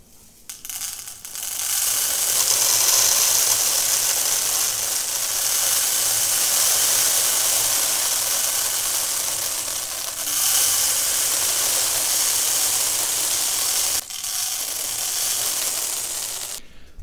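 Small balls roll and rattle steadily down a tilted wooden game board, a dense continuous clatter lasting most of the stretch with brief breaks near the middle and toward the end.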